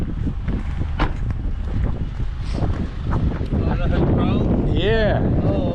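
Strong outdoor wind buffets the microphone on a very windy day, a constant heavy rumble throughout, with a voice talking under it and a brief whine near the end.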